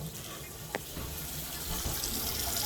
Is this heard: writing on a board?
no